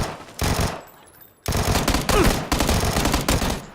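Rapid automatic gunfire in the video game PUBG, sharp loud bursts: a short volley, a brief pause, then a longer sustained stream of shots, with no talk.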